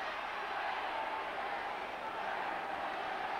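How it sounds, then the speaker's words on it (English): Rugby league crowd at Wigan during a Regal Trophy semi-final against Castleford, a steady distant roar from the terraces, broad and unbroken throughout. "the Wigan crowd roaring behind Wigan, urging them on to defend"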